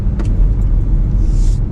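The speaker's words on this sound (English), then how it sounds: "I'm driving a South Korean car." A South Korean car driving along, its steady low engine and road rumble filling the interior continuously, with a brief faint click or rattle early on.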